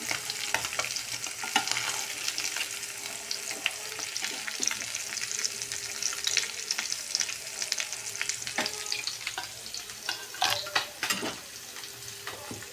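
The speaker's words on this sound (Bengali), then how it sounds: "এখন এক একটা করে আমি ভেজে নেব। একটু কড়া করে ভাজবো।" Chapila fish frying crisp in hot oil, one piece at a time, with a steady close sizzle and bubbling, occasional clinks of a spatula against the pan, and no talking.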